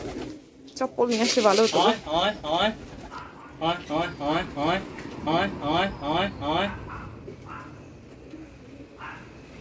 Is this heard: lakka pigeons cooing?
yes